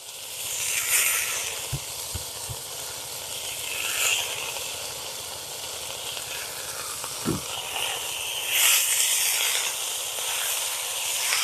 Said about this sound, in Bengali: এবারে আমি শাকটা তুলে দেব পদ্ম কচুর শাক দিয়ে দিচ্ছি